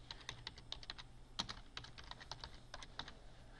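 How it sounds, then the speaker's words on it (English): Quick, light keystrokes on a computer keyboard as a title is typed in, an irregular run of soft clicks, close and fairly quiet, with no talking. "We're going to type in our title."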